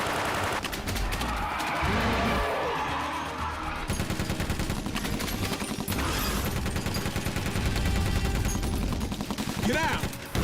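Rapid bursts of automatic gunfire and fusillades fill a film action scene, loud and continuous with sharp cracks layered over explosions and background score, with brief shouted voices mixed in.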